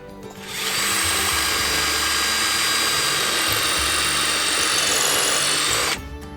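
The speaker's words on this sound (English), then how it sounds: "we're going to drill this out for the eye hook to go into" A power drill drills a pilot hole in a wall stud for an eye hook, one continuous whining burst lasting about five seconds, loud and close, with no talk.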